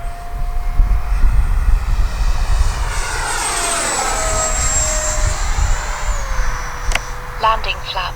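A radio-controlled F-86 jet model airplane makes a fast pass, its rushing turbine whine rising and sweeping down in pitch as it flies by, with someone talking partly beneath the sound.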